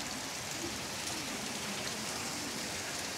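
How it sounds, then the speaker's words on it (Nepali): Heavy rain pours steadily during a thunderstorm at Repulse Bay, a dense, close wash of rainfall hissing continuously without a break, no thunderclap standing out. "एक्कासी डेन्जर ठुलो पानी हावाहुरी आइदिइरहेको"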